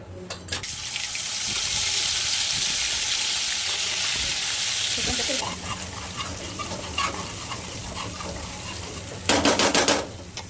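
Mustard seeds hit hot oil and set off a loud, steady sizzle close by. The sizzle runs on for several seconds, then drops to a softer crackle of popping, with a brief burst of louder spattering near the end.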